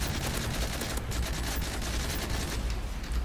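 Dense, continuous enemy gunfire in Modern Warfare 3 survival mode on PC, set in a village: rapid overlapping shots and bursts fill the scene loudly and without pause, close and relentless.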